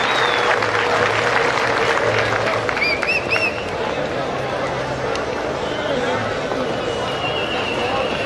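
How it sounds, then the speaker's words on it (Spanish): Crowd applause at a Paso Fino mare championship in Ibagué, Colombia, a broad continuous wash of clapping and crowd noise, with an announcer's voice and faint chatter running underneath. "Señoras y señores, un aplauso por favor"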